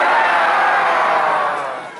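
A crowd of people gathered at an animal-themed show roar together in imitation of lions, a loud, dense burst of shouting voices that holds for about two seconds and then fades.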